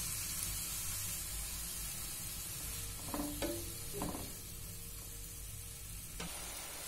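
Carrot halwa with coconut and a splash of water hisses steadily in a pan, a soft continuous sizzle with a few short scraping stirs of a spoon near the middle, close and fairly quiet.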